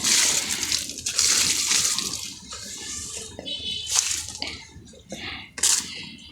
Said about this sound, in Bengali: সব গাছে পানি দিয়ে দিলাম।